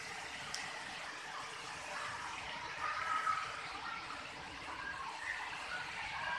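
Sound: waterfall at Pancor Kopong

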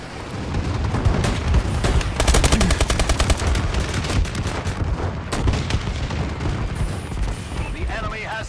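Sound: enemy bombing run airstrike in Call of Duty Advanced Warfare video game

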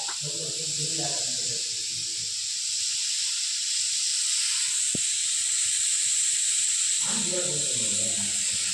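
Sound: beans frying in a pan

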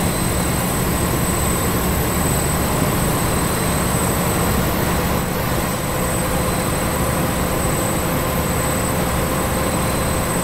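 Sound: train running in a train simulator video game

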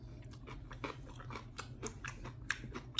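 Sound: chewing kimchi

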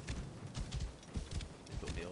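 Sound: horse hooves in the video game Assassin's Creed Origins

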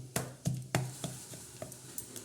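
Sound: crushing jaggery into small pieces

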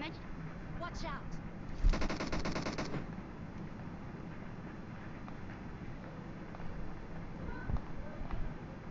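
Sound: gunfire all around in a video game (PUBG Livik)

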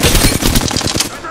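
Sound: gunfire in the video game Apex Legends

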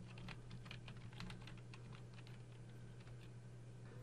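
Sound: typing on a computer keyboard

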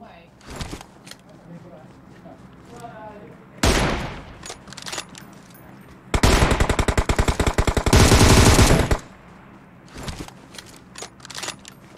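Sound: gunfire in a video game

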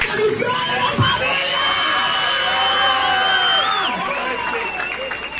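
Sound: applause and cheering

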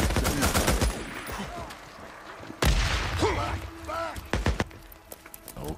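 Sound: gunfire in the video game Days Gone

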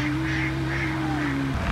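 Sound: ducks

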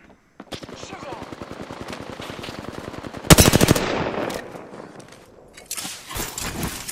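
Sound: gunfire in the video game Apex Legends

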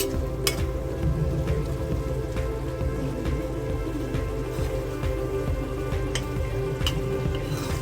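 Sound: prawn and bean curry sizzling in a pan

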